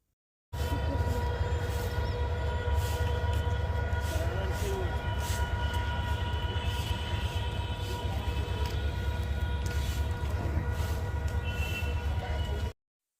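A Howrah–Amta local train gives a steady, fairly quiet rumble and hum that holds evenly for about twelve seconds, with no speech over it.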